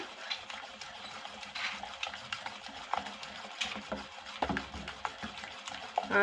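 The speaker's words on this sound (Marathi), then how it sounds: "असं छानपैकी मिक्स करून घेतलं पाहिजे" A spoon scrapes and swishes repeatedly through thick rice dosa batter in a bowl, a steady, close stirring rhythm with no talking.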